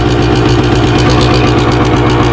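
A 1978 Yamaha DT175 motorcycle idles loud and close, its two-stroke engine throbbing in a steady, rapid, even pulse with no break.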